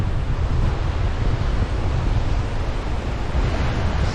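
Choppy sea waves roll against the coast at Torrevieja on the Costa Blanca, a steady broadband roar of surf mixed with gusting wind buffeting the microphone, continuous and fairly loud with no voices.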